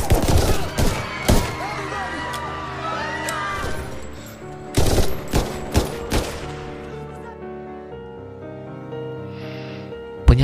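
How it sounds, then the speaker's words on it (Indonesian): A film shootout with sharp, reverberant gunshots cracking out in scattered bursts, some in quick clusters, over a tense, rumbling soundtrack, loud and close. "Terjadilah baku tembak yang memaksa mereka bersembunyi di bawah gedung"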